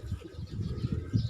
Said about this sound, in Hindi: ये कबूतर मेरे सबसे ज़्यादा फेवरेट कबूतर हैं